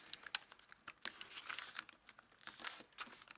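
Origami paper crinkles and creases in a string of quick, crisp rustles and soft taps at close range, faint and steady with no voices.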